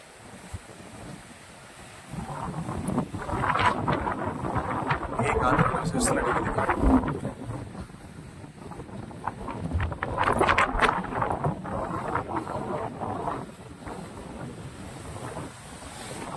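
Wind roars across an exposed mountain height at 3,825 feet on Kondarangi hills, in long, surging gusts that rise and ease, with faint voices murmuring underneath.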